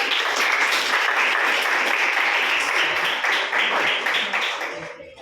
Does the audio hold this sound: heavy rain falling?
no